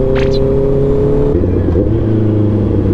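Honda CBR650R motorcycle fitted with a loud Daivo aftermarket exhaust revs hard and close, its engine note rising sharply, then settling into a steady, rumbling idle.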